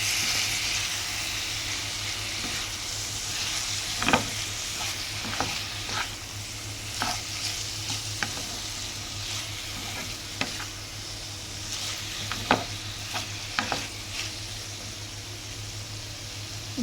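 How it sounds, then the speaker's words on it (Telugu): Tomato and coriander are stirred into a frying ivy gourd curry: a constant close sizzle runs throughout, broken by irregular clicks and taps of the spoon against the pan. "ఇప్పుడు టమాటా కొత్తిమీర అనేది వేసేసుకుందాం ఇప్పుడు దీన్ని కలిపేసుకుందాం"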